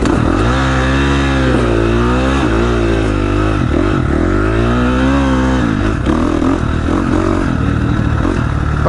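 A KTM motorcycle engine running loud and close while riding an off-road course, a steady droning roar with its pitch rising and falling as the throttle changes, and no talking.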